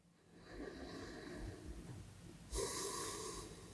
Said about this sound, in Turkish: Hemen nefesini alıyorsun. Bu sırada nefesine odaklanıyorsun.